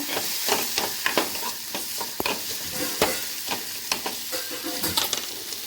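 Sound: sautéing spices and onions in a pan

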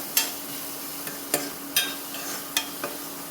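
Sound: sautéing vegetables in a pan

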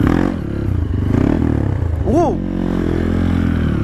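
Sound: Honda CRF 150 L bore-up trail motorcycle revving for a wheelie

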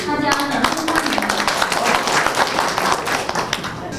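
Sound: applause

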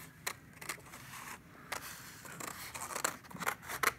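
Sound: scissors cutting black paper

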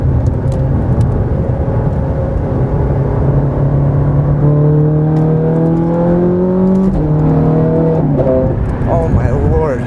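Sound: Ferrari 430 Scuderia Novitec twin-supercharged engine accelerating

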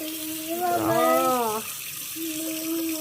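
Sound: tap water running for tooth brushing

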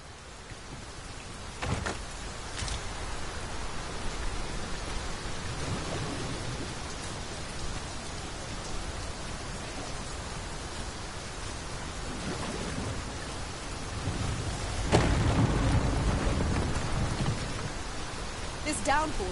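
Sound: downpour rain in video game Dragon's Dogma 2

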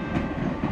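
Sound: train rushing along rails in video game Holiday Express

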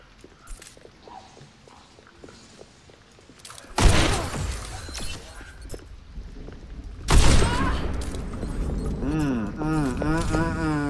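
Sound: sniper rifle gunfire in the video game Overwatch 2

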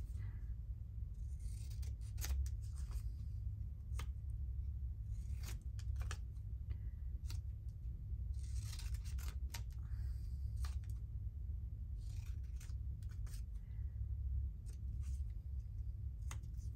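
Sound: scissors trimming paper ephemera

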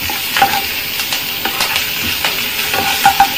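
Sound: ginger, garlic and green chilies frying in oil

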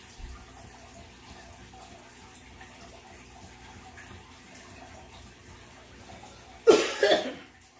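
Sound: hacking cough

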